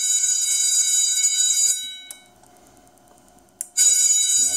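Arduino Uno school bell system ringing electronically: a loud bright tone for nearly two seconds, a brief pause with faint lower tones, then a sharp burst as the ring starts again.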